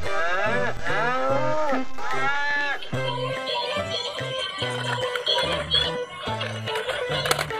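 A dancing robot toy cow plays loud electronic mooing calls up close, repeated over a toy's tinny backing music, with no talking.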